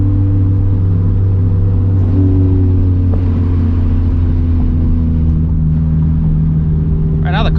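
A turbocharged Scion FR-S with over 350 horsepower runs at a low, steady rumbling idle that builds only slightly, with a brief higher whine near the end.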